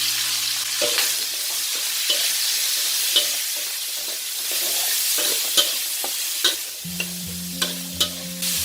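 Mixed vegetables are stir-fried over high heat, with a steady bright sizzle under repeated sharp clacks and scrapes of a spatula against the pan, plus a low hum near the end.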